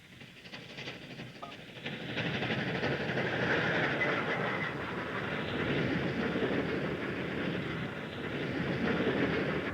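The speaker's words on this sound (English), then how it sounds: "A light Pacific next leads a work train across a diamond near the same location." A light Pacific steam locomotive leads a work train across a diamond crossing, a loud steady rumble of rolling wheels and clatter building after the first two seconds, alone with no talk.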